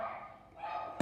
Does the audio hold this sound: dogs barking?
yes